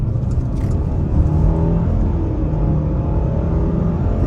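A 2023 Mitsubishi Outlander SEL Black Edition accelerates at about half throttle, heard from inside the cabin as a steady, fairly loud engine hum and rumble without any speech.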